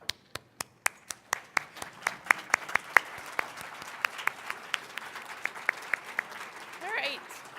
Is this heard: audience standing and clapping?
yes